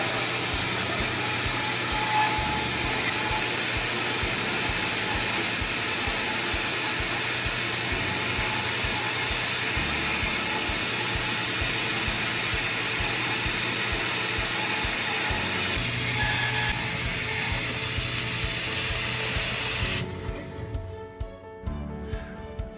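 A saw cuts metal with an MQL lubricant nozzle feeding the blade, a steady, loud mechanical whir and hiss that holds for about twenty seconds before winding down near the end.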